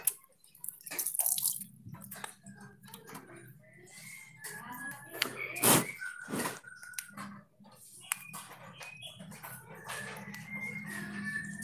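Water splashes and drips as a bird infested with lice is rinsed, with irregular wet patters and a dog barking faintly, while someone speaks at points throughout.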